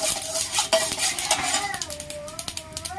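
Two cashews fry in oil in a pan, sizzling steadily and close while a utensil stirs them with scraping and clinking.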